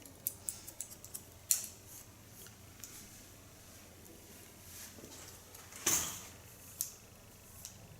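Scissors cut hair during a purple pixie haircut, with sparse, soft snips and clicks scattered over a quiet background, a few sharper close cuts standing out.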